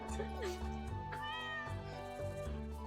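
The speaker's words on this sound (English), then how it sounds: "Wait, so I just got a cat." A cat meows in Stardew Valley, a short game sound effect over steady background music and game tones, with a person talking under it.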